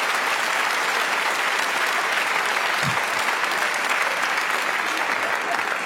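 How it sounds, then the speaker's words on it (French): Audience applause at a French stand-up comedy show, a sustained, even wash of many hands clapping that holds loud and unbroken throughout. "Vous avez applaudi ça?"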